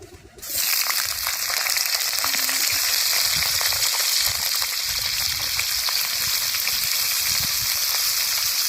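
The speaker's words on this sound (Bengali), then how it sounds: "কড়ার মধ্যে তেল দিয়ে উচ্ছেগুলো ভেজে নেব" Slices of bitter gourd frying in hot oil in a wok set off a loud, steady sizzle that starts abruptly and crackles on without a break, close up and with no talking.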